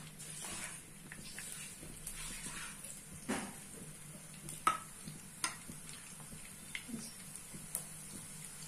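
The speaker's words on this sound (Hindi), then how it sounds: "ऑयल लाइटली गर्म होने के बाद उसमें फर्स्ट प्याज ऐड कीजिए।" Chopped onions go into lightly heated oil while kanda poha is being made, a soft steady sizzle with scattered stirring clicks and scrapes, fairly faint and close, no voices.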